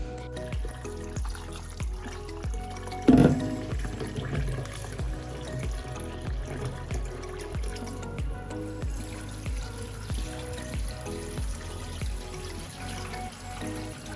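Running water as sliced potatoes are rinsed in a kitchen, a steady trickle and splash with a brief louder gush early on, close by and with no talking.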